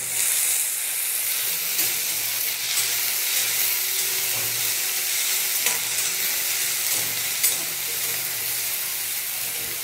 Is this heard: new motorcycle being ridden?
no